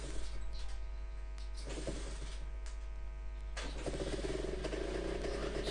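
A James Cadet motorcycle engine catches and runs at a steady idle, a continuous close mechanical drone with a constant low hum, a brief surge partway through and a rougher patch near the end, no voices.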